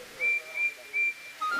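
A high, thin steam locomotive whistle sounds in several short blasts, three even peeps followed by a slightly lower one, clear and close.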